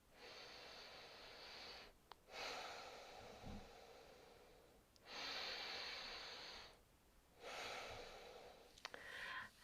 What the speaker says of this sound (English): take 3 soft, slow, mindful breaths